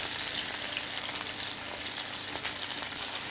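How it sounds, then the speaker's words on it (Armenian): Unpeeled garlic cloves and thyme frying together in oil in a pan, a steady close hiss of sizzling with faint scattered pops throughout and no voices. "Ուրցն եմ գցելու, որ հետը տապակվի։"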